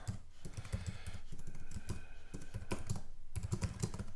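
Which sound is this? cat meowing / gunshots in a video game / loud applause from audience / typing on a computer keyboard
typing on a computer keyboard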